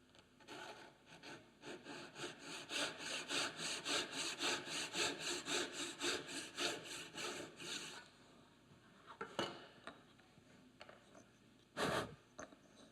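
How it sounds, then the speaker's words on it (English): A hand saw makes light, steady back-and-forth strokes through a wooden mitre in a mitre box. The rasping strokes are close and rhythmic for several seconds, then stop, and a few scattered knocks and handling sounds follow. "with a light pass with the saw, light strokes, you end up with a very, very pristine"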